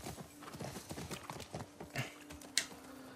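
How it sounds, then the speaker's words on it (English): Horse hooves in The Last of Us Part II clip-clop at a steady walking rhythm, close and distinct, with a faint in-game background hum and a brief sharp knock near the end. "I'm just putting the horse away."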